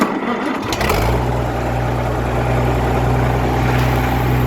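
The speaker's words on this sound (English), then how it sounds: "turn the ignition switch on, give it a little bit of choke, a little bit of throttle, and hit the starter." A car engine cranks briefly on the starter with choke and throttle applied, then catches within a second and settles into a loud, steady close idle.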